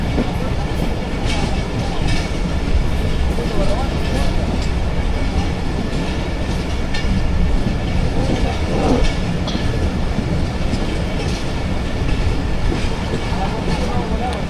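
Aboard the Rehman Baba Express (47 Up) passing through Shahdadpur station without stopping, a steady, close rumble of wheels and carriage clatter fills the whole stretch while a person talks over it.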